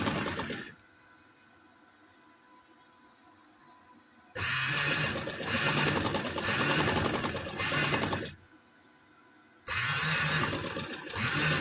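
A sewing machine stitches trouser fabric in three close, loud bursts of rapid mechanical whirring, separated by quiet pauses.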